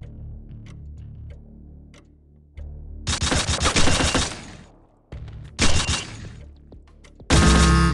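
Automatic gunfire in the mobile shooter Gun Master 3: Zombie Slayer, with three loud, dense bursts of rapid shots separated by quieter game ambience and scattered clicks.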